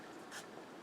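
A highlighter or pen scratching briefly on paper during sewing pattern work, a short soft stroke close by over a quiet background.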